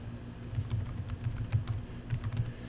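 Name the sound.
typing on a computer keyboard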